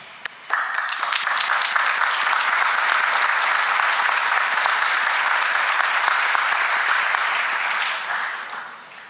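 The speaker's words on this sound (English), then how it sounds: "I want to applaud you." Steady applause from a crowd at a university honors and awards ceremony, starting abruptly, holding loud and dense for several seconds, then tapering off near the end.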